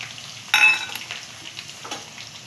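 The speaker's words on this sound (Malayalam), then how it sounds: "ബ്രൗൺ കളർ ഗോൾഡൻ ബ്രൗൺ വരുന്ന വരെ ഇങ്ങനെ നമുക്കൊന്ന് വറക്കാം." Chopped garlic and ginger frying in hot oil for a pickle, a steady faint sizzle with one louder crackling burst as it is stirred, then softer scraping taps.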